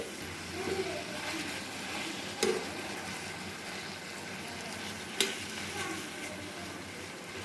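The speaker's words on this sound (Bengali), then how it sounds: "অনেক মোটা লোহার কড়াই, এটার মধ্যে আমি সুন্দর করে পুরোটা ভাজবো।" Meat and onions fry in a heavy thick iron wok, a continuous moderate sizzle with stirring scrapes and two sharp utensil knocks.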